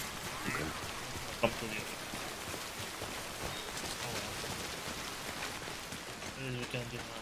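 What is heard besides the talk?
rain in the video game Death Stranding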